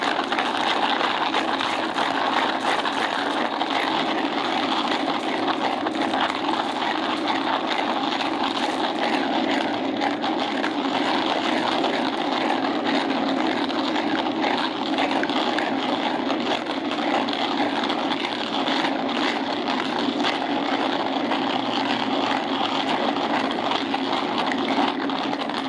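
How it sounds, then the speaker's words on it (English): A Cafflano Kompact handheld manual coffee grinder crushes beans in a steady, continuous gritty whirr, held close and loud without pause for the whole stretch, with no talking. "I like to hold my handheld grinder steady so I can have a uniform grind."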